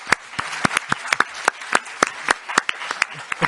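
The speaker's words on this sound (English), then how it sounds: "je vois que les applaudissements montrent l'affection qui vous est portée" Scattered applause at an EU summit press conference: sparse, uneven claps from a small group close by, fairly quiet, with no talking over them.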